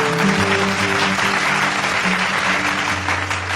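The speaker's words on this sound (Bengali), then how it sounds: "হাততালি যেন বন্ধ না হয়।" At a merit awards ceremony for a quiz contest, an audience claps steadily and loudly throughout, a continuous wash of applause with a low musical hum underneath.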